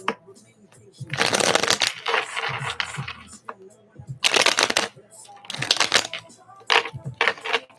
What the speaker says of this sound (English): let me give me a second to shuffle everything